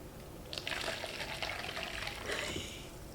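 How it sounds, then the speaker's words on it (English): Hot water pours steadily from a dispenser into a measuring jug while making bubble tea, a continuous near splashing stream that starts after a brief pause and tapers off at the end. "Now we are dispensing it into a measuring jug."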